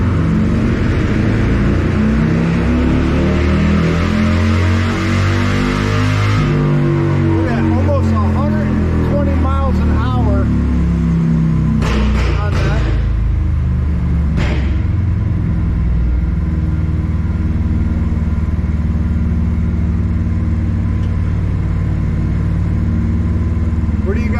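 Harley-Davidson Softail with a Screaming Eagle engine revving on a dyno, a loud, close, sustained rumble rising and falling through several throttle sweeps, with voices talking over it.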